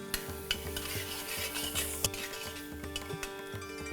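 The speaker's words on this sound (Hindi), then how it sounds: "2-4 मिनट ही भूनना है इसको" Chopped coriander stems roast in oil in a pan for a Parsi chicken curry, a steady low sizzle broken by regular scrapes and taps of a spoon stirring against the pan.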